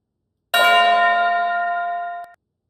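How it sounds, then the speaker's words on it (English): A church bell sample struck once in a beat, ringing with a bright cluster of sustained overtones and a low hum that decay slowly for nearly two seconds before being cut off abruptly, heard alone. "a church bell."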